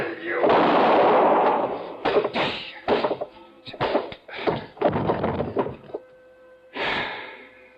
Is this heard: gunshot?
yes